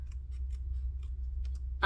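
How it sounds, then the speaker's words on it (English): Small scissors snip paper ephemera for fussy cutting, quiet close clicks spaced irregularly over a low steady hum, ending in a brighter louder snip. "These little scissors are great for fussy cutting also."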